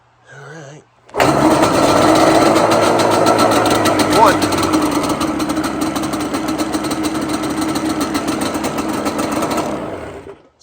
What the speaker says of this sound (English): We'll see how many kicks this is going to take us to get this thing started today.